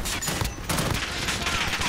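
A Call of Duty Modern Warfare firefight rattles with dense, continuous gunfire, a steady loud barrage of overlapping shots filling the whole moment without clear breaks.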